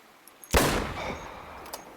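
A hunting rifle fires at a Rusa deer in theHunter Classic video game at Piccabeen Bay. One sharp, loud shot cracks out of near silence, then rolls off in a long fading echo, with a few faint ticks before and after.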